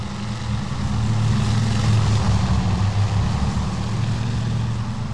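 An RC plane's propeller engine in the RealFlight simulator game gives a steady, loud buzzing drone that holds an even pitch and level throughout, with no voices.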